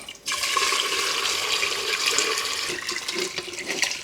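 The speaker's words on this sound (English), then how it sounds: "Strain the broth into the chinois." Broth pours through a chinois sieve, a steady, close rush of liquid splashing and streaming for several seconds without any talk.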